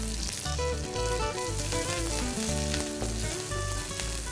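Cumin seeds, curry leaves and green chilies sizzle and crackle in hot oil in a pan, a loud steady frying hiss with small pops, no talking.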